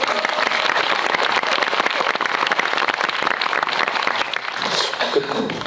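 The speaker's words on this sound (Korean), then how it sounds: "박수를 좀 드릴까요?" Sustained audience applause at a Korean film talk event for the movie Metamorphosis, dense steady clapping filling the room for several seconds, tapering slightly near the end.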